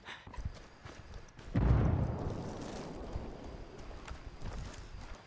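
A frag grenade goes off in a Ghost Recon Ghost War extraction match on the Institute map: a single deep, booming blast that hits suddenly and rumbles away, preceded by faint game noise.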